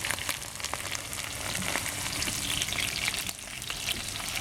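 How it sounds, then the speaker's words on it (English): Chicken pieces frying in a hot pan for Hunan chicken stir fry, a steady close sizzle and crackle heard alone throughout. "you just fry them up one side first"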